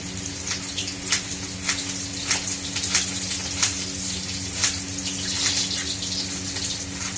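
Food slid into hot oil with cumin seeds already browned, frying with a steady broadband sizzle and crackle, close and fairly loud, with repeated sharp spits and pops throughout.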